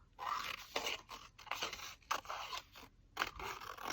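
Scissors cut through paper in a series of short, close, crisp snips and crunches, spaced irregularly and fairly quiet.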